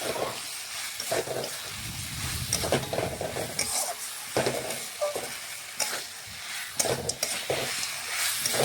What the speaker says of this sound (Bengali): এখন মশলার সাথে ভালোভাবে মিশিয়ে নিচ্ছি নাড়াচাড়া করে।